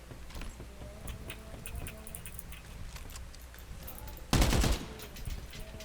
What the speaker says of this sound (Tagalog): I-try niya lang yung baril.